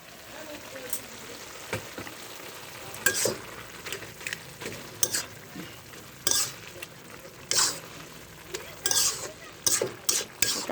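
Green chillies fry in a hot pan of red amaranth greens, giving a continuous close sizzle broken by repeated scraping stirs of the spatula at irregular intervals.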